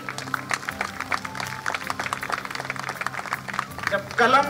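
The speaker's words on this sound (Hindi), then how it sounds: "जोरदार तालियां" A Hindi poetry gathering's audience claps loudly and continuously for the honoured guest while tonal voices and some musical sound carry over the clapping.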